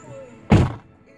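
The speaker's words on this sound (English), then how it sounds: "Close the door." A single solid thunk of a car door shutting, close and loud, with a short muffled tail.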